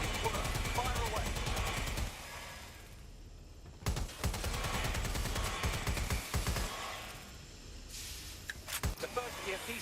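Gunfire in the video game Watch Dogs Legion: dense, sustained automatic bursts layered with game effects and booms, loud and continuous with brief breaks and sharp individual shots.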